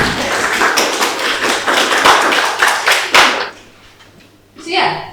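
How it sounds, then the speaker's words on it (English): An audience at an informal astronomy talk in a bar claps for itself, lively close clapping for about three seconds before fading, then a voice starts speaking. "Can you all give yourselves a round of applause?"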